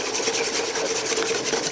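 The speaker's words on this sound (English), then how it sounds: "Go ahead and stir this together. And actually I'm going to switch to my whisk." A whisk beats a vanilla pudding mixture in a bowl, a brisk, close, continuous scraping swish with quick rhythmic strokes and no talk.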